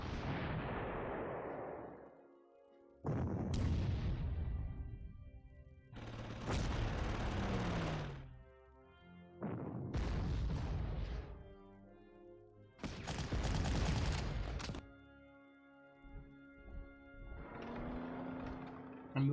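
Heavy artillery fire in the Panzer Corps strategy game, a series of about six deep, booming blasts, each rolling out for a second or two, spaced a few seconds apart and played loud with no voices.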